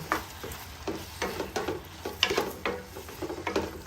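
Pasta being stirred and mixed in a pan, with irregular scraping and clattering strokes over a soft sizzle of cooking, close and moderately loud, with no talk.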